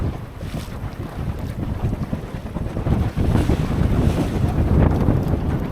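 Gusty wind roars across the microphone aboard a Drascombe Lugger sailboat under way, with water rushing along the hull; the buffeting builds noticeably in the second half and stays loud and continuous, with no voices.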